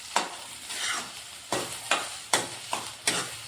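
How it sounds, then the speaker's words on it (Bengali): Turmeric and chili powder lightly frying in oil for Bengali lau pata bata, a steady sizzle punctuated by regular, evenly spaced stirring scrapes of a spoon in the pan. "যতক্ষণ অবধি যে মশলাগুলো দিলাম সেগুলো পুরোপুরি ফ্রাই না হয়ে যাচ্ছে, ততক্ষণ অবধি হালকা ফ্রাই করে নেব"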